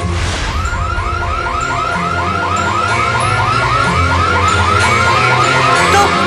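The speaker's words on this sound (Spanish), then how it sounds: "Sexto paso, activa la alarma." A car alarm blares a rapid, repeating warble, loud and close, cycling evenly for several seconds without any talking.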